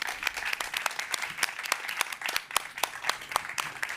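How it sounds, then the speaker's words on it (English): Crowd applause at SXSW 2025 welcoming astronaut Hazzaa Al Mansouri, the first person from the UAE in space: loud, brisk, continuous clapping from many hands, sustained throughout with sharp individual claps popping out. "Applause for Hazzaa"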